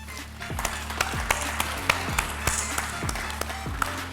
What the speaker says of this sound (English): We'd also like to have a round of applause for him as well.